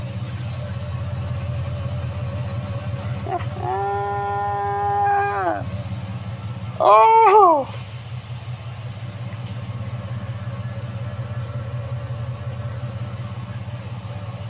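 A 1971 Chevelle's exhaust rumbles in a low, steady idle throughout, with a couple of brief louder tonal sounds breaking in partway through and a short spoken exclamation.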